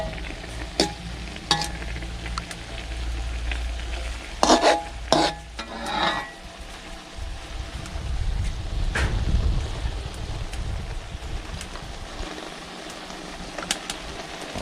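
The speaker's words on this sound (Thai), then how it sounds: "เราต้องคั่วๆ ให้มันแห้งนะครับ" Eel is dry-roasted in a pan for a northeastern Thai dish, with steady scraping and stirring and faint sizzling that goes on throughout, plus a few sharp clanks of the utensil against the pan.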